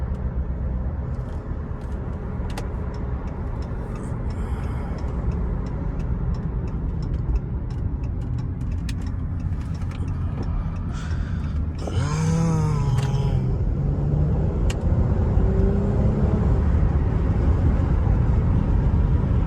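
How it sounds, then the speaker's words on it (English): From inside a 2018 Chrysler 300S on the road, a steady low rumble of engine and road noise runs throughout, with faint rhythmic ticking, light cabin creaks and a brief squeaky sound midway. "Just driving, man. Driving in the car be so smooth"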